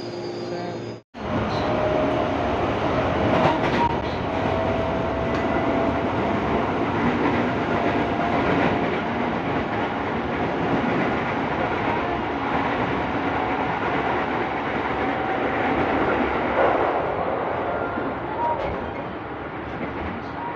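A commuter train in Indonesia heading to Cikarang station rumbles and rattles steadily with clickety-clack, heard from inside or on the platform, with a faint voice in the background.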